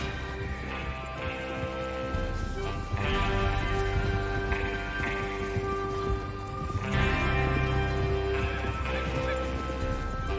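Horses in the Red Dead Redemption 2 video game, heard as steady clip-clop hooves and occasional neighs and whinnies, moderately loud and continuous, set against a dense game music and ambience bed, with no talk.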